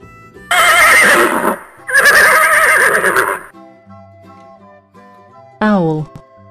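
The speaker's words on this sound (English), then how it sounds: "Horse." Cartoon-style horse whinnying for a children's animal video: two loud, drawn-out neighs in quick succession over soft background music, followed by a short spoken voice near the end.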